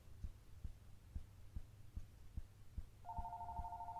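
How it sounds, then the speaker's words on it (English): A phone rings in the video game Missing Time, a steady electronic trill starting partway through, laid over a slow, low rhythmic throbbing pulse like a heartbeat. "Okay, yeah, phone's ringing."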